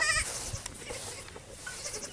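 A young goat gives a short bleat at the start, close and clear, followed by fainter rustling and farmyard noise.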